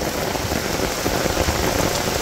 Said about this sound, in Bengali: আজকে সেই রকম বৃষ্টি হইল